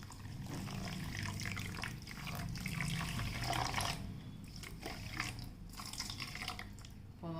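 Water pours into a pot of sugar in a steady, quiet splashing stream, with a few brief pauses and changes in flow.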